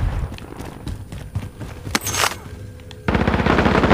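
Rapid machine gun bursts from a video game, with scattered shots early on and a dense, sustained volley of gunfire building loud through the second half; no speech.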